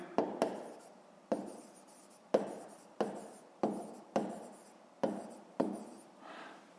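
Pen or pencil strokes on paper while working a fifth-grade math exercise, a series of about ten sharp scratchy taps and short scribbles spaced irregularly, close and fairly quiet, with no talking.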